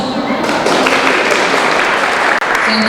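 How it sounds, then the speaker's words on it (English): A crowd at an outdoor Holodomor remembrance event at the Texas Capitol applauds, a dense, loud, continuous wash of clapping close by that carries on steadily throughout. "Thank you, amazing people, for your support and your applause"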